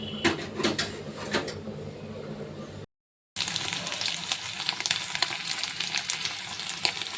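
Homemade paneer pieces fry in a pan with a steady, dense sizzle and crackle, broken by a short silent gap before the frying resumes loud and continuous.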